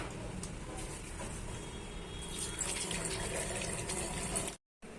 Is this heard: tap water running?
yes